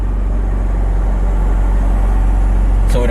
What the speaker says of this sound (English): We're pulling out of the gas station right now.